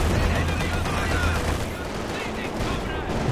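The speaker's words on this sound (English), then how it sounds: "Machine gun destroyed out the back by the 152mm artillery." Heavy gunfire and artillery rumble in a Company of Heroes 2 battle, with 152mm artillery among it, forming a dense continuous roar of overlapping blasts and rattling shots without clear pauses.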